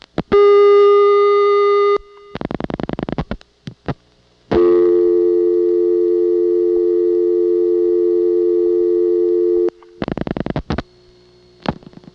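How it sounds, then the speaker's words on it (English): Vintage 1982 Florida telephone line with Siemens switching, after dialing the vacant local number 621: a long steady tone, bursts of pulsing clicks, then another sustained tone before a vacant-code intercept, with no talk. "let me dial 621. There isn't any such thing, and we'll get the local vacant code recording"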